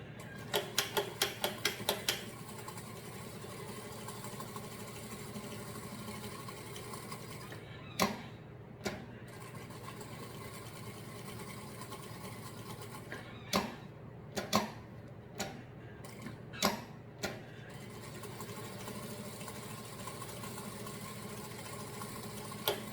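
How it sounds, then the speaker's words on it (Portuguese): A sewing machine stitches a U-shaped seam around fabric pieces for a baby document holder, with backstitching at the ends. A steady mechanical hum is broken by a quick run of clicks at the start and sharp ticks scattered later. "agora eu vou aqui na máquina, vou fazer vários retrocessos aqui, vou fazer a costura toda a volta e terminar com vários retrocessos"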